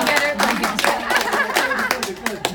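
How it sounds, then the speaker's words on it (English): An audience claps for a young performer at the 2019 Splashtacular show. The quick, lively clapping is mixed with voices and a bit of chuckling from the crowd, all close and moderately loud. "big applause"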